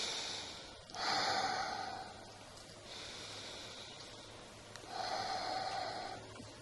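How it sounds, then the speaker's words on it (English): Slow, audible breaths are drawn in during a meditation session. Three soft, airy inhalations come close up, each stretching over a second or so and separated by quieter pauses. "you count 7 times, breathing in"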